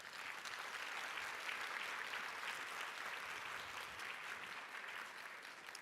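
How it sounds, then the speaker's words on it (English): An audience at a nursing informatics conference applauds a panel, a steady wash of many hands clapping, fairly distant and quiet, holding even from start to finish. "a warm round of applause for our whole panel and for Max"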